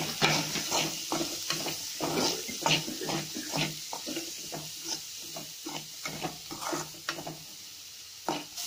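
Sliced green chili and onion fry in a pan with a constant sizzle, broken by rhythmic scraping strokes of a spoon stirring the pan, heard up close.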